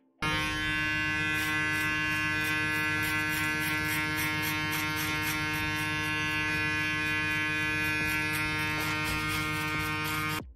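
A TPOB Goblin electric hair clipper buzzes steadily and loudly while cutting a fade, a close, continuous motor whine with strong harmonic hum that starts abruptly and runs unbroken until it cuts off at the end, with no talk.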